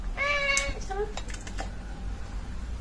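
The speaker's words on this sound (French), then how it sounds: "on a des petits chats qui nous ont rejoints, comme vous pouvez l'entendre" Two or three high, thin kitten meows come close together near the start, followed by faint clicking in a quiet room.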